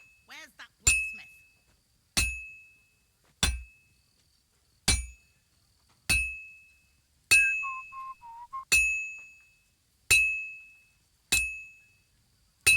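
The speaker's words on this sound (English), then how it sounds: "I have to hammer it more evenly." Metal being hammered on an anvil at a smithy in Kingdom Come Deliverance II, ten evenly spaced ringing clangs about a second apart, each with a long metallic decay, and a brief whistled tune in the middle.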